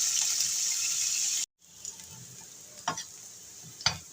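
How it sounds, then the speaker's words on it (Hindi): Washed and drained bitter gourd (karela) frying in hot oil in a home kitchen: a loud, steady sizzle that cuts off abruptly, then a quieter hiss broken by a couple of sharp stirring scrapes. "तो अब मैं इसको करेले को फ्राई करूँगी।"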